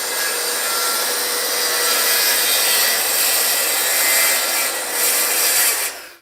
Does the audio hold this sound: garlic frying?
no